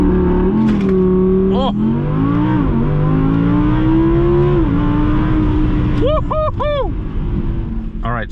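An Audi R8 V10 Plus accelerates at full throttle from inside the cabin, its engine climbing in pitch through rising revs with quick gear shifts, loud and close, while a passenger exclaims briefly.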